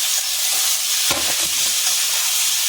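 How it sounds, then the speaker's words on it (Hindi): Potatoes with salt and turmeric stirred in a hot pan, a steady loud sizzle throughout with a spatula scrape and clatter just past one second, no talking. "आलू को अच्छे से मिक्स करके ये नमक हल्दी दोनों से डाल देंगे"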